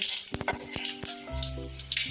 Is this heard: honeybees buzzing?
no